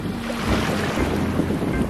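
On a boat on the Atlantic Ocean, waves wash and slosh close by while wind buffets the microphone, making a short, rough, continuous rush with no voices.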